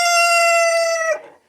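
A single chicken call from a flock of hens, one clear sustained tonal cry about a second long, close and alone, ending abruptly.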